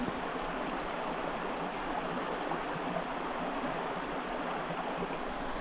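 Creek water flowing steadily through the bottom of Carnarvon Gorge in Queensland, a soft continuous broadband rush heard alone at moderate distance with no voices.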